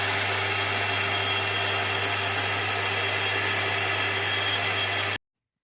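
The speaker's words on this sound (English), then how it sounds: "So now we can put the tap in, and we can tap that thread." A power drill tapping a thread in a Rover P4 gear change part runs steadily at high speed for about five seconds, then cuts off abruptly into silence.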